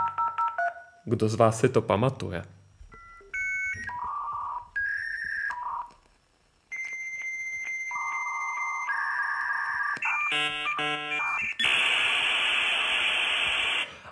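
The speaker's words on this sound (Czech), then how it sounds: "vytáčené připojení, které znělo nějak takhle" A dial-up modem connects: dialing tones, then a run of screeching handshake tones, warbles and static hiss, loud and up close, after a brief spoken question at the start.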